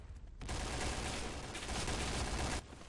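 Rapid sustained gunfire in the shooter game Point Blank, a dense burst of automatic shots lasting about two seconds after a brief lead-in, loud and close.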